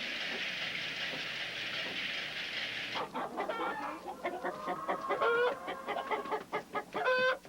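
Chickens cluck in a busy, overlapping chorus of short, pitched calls, close and fairly loud, taking over after a few seconds of steady broadband hiss.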